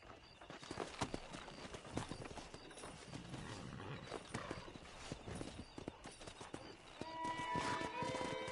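Horses' hooves clip-clopping in the Western video game Red Dead Redemption, a fairly quiet run of rhythmic hoofbeats among game ambience, with a brief tonal sound near the end.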